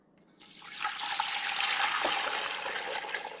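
Liquid pours into a pot for homemade gochujang, a steady rushing splash that starts abruptly and runs continuously, close and clear with no talk.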